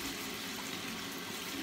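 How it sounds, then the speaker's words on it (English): Water running steadily from a tap onto a glycerin-based barbershop shave soap, a continuous close splashing hiss with no talk. "put a little bit of water on here"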